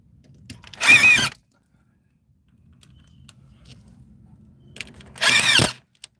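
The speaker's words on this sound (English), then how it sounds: "Just need to pop a few of my screws in." A power drill drives screws into a solar screen frame in two short bursts of high whirring several seconds apart, with faint handling noise between them and no talking.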